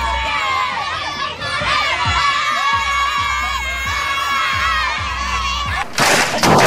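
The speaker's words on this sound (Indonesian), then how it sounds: "Tidak hanya bocil-bocil aja yang teriak penuh dengan semangat, tapi yang dewasanya juga mereka tidak kalah saing." A crowd of children and adults shouts and cheers loudly during an Ogoh-ogoh parade in Sangsit, Bali, a dense sustained roar with rhythmic drum-like thumps underneath and a burst of noise at the end.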